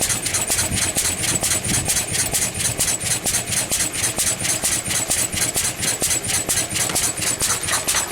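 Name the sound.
pre-electronic engine running rich, 8-stroking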